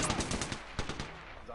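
Video game gunfire rattles off in a fast automatic burst of loud, sharp shots lasting just over a second, with a brief gap before a final few rounds.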